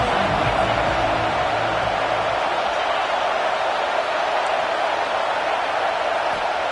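A stadium crowd roars in a college football video game, Georgia's home crowd noise a loud, steady wash filling the whole stretch with no break.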